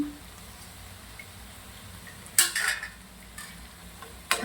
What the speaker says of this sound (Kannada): ಮತ್ತೆ ಒಂದು ಮಿಕ್ಸ್ ಕೊಡೋಣ